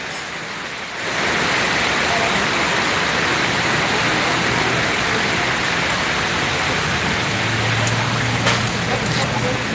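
Steady, heavy rain sets in after a second and keeps up a dense, even wash of noise, with a low hum running underneath part of the way.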